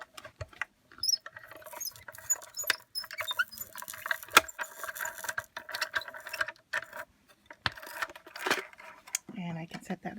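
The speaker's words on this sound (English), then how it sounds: "we're going to run this through our die cutting machine" Quiet, uneven clicking and ratcheting from a die cutting machine as a die on silver card is run through it. Irregular small taps and patters are scattered across the stretch, with a few louder knocks.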